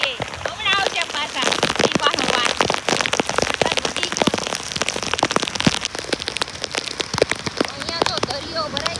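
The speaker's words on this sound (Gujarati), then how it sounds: "હા તો વરસાદ જો જોરદારનો" Heavy downpour during flooding in Surat, dense and loud, with constant patter and sharp drops striking nearby surfaces and a raincoat, and someone talking over parts of it.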